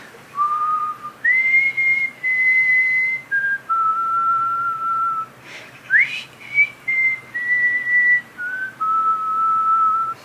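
A person whistles a clear, loud melody alone, holding long steady notes with brief pauses and pitch jumps between phrases.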